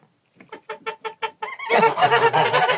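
Turkeys give a run of short, rhythmic clucks close by, which swell into a loud, dense chorus of gobbling calls from several birds.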